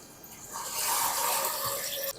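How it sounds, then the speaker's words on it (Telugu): Tamarind juice poured into a pan of frying prawn curry, a steady liquid splash and sizzle swelling for about a second and a half, then cutting off abruptly. "మనం తీసి పెట్టుకున్న చింతపండు పులుపు వేసుకుందాం"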